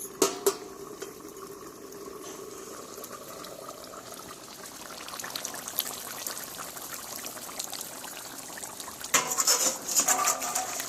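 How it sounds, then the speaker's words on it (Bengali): Duck curry with potatoes simmering in a covered pot, giving a soft, steady bubbling and gurgling close by, with faint clinks of the lid and utensils toward the end. "আবারও খানিকটা ঢেকে দেবো, আলুগুলো সিদ্ধ হবে।"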